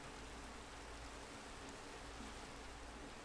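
Steady rain from the video game Minecraft, a dense, even hiss of falling drops that stays constant throughout with no talking.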